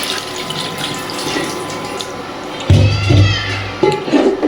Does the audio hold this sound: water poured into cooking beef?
yes